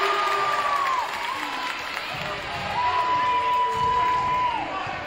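Crowd at a girls' high school basketball game, PCS against Ada/Borup, roars after a takeaway and a score: steady, loud cheering and applause through the whole stretch, with two long whistle-like tones cutting through and a voice under the noise.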